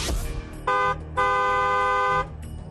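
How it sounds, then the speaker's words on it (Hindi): A car horn honks twice, a short blast followed by a longer sustained one, loud and close over faint background noise. "करने के लिए हॉर्न बजाएं।"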